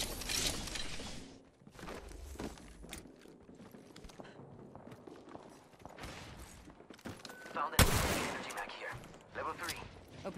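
Gunfire in the video game Apex Legends, scattered shots and short bursts amid in-game effects, one sharp loud blast late on, with a voice speaking over the action.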